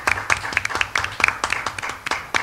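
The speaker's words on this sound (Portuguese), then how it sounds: "palmas para as duas." A small group claps for a couple of seconds at a literary lecture event, quick irregular hand claps close by, without any talking.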